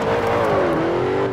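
Racing game car in Forza Horizon held at full throttle through a speed trap, a loud steady engine roar with a rising and falling pitch, no talk.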